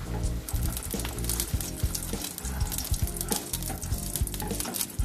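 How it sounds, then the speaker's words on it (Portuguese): Mushroom risotto sizzles steadily in the pan as broth is added and stirred, a continuous close bubbling and frying crackle with irregular scraping stir sounds throughout and no voices. "Vai colocando o caldo e vai mexendo."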